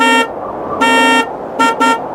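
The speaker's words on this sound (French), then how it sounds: "Les bruits de la circulation urbaine," Loud car horns honk repeatedly over a steady rumble of traffic: one long blast, then several shorter toots in quick succession.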